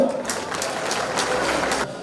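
Applause from an award ceremony audience, a steady patter of many hands clapping at moderate volume for a couple of seconds before tapering off.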